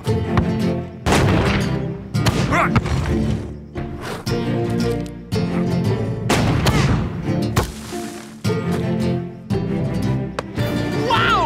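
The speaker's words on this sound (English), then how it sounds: "Tiger wasn't joking about the cannon." A cartoon cannon fires repeatedly in a soccer cartoon, a series of loud booming blasts spaced a second or two apart, each with a ringing tail, punctuated by brief gaps and some voice sounds.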